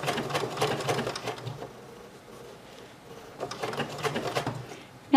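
A BERNINA 880 computerized sewing machine stitches along a curve, giving a steady, close, moderately loud mechanical whir. The whir eases off briefly midway, then resumes.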